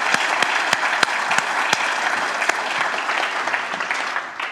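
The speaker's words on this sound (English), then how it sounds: "Luke, can I just give you a second round of applause?" Audience applause at an Ofwat innovation fund presentation, a dense, steady round of clapping from a room of people, tapering slightly at the end.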